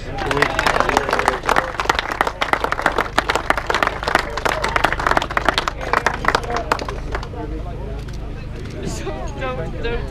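Crowd at a downhill mountain bike race at Hopton Woods applauding the youth men category winners, steady dense clapping for most of the stretch that thins out toward the end, with a voice talking over it.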